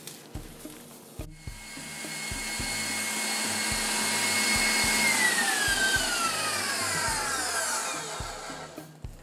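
An electric mixer whipping egg whites for Italian meringue buttercream, a loud steady whine whose pitch sweeps downward partway through, with clicks and knocks before and after.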